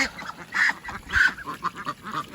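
Ducks in a fenced backyard area quack in a handful of loud, raspy bursts, some clustered and some spaced apart, close by with no talking.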